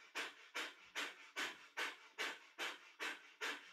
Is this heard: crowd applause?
no